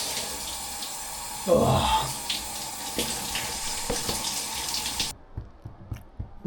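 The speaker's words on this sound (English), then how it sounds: "So I'm just going to finish my cold shower" A cold shower runs in a continuous, close wash of falling water that cuts off abruptly near the end, leaving quieter scattered sounds and a brief exclamation.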